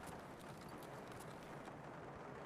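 Footsteps in the video game Escape from Tarkov, a steady run of muffled, rapid steps, fairly faint, heard alone against a dense noisy background.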